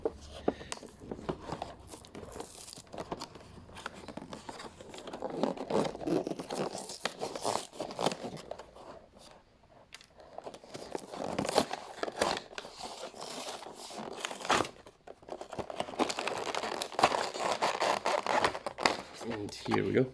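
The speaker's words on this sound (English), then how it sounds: "Try and get the scissors under this last little bit here." Scissors snipping and cutting through plastic toy packaging to free an AEW wrestling action figure, with crinkling and tearing plastic close up, while a person talks over it throughout.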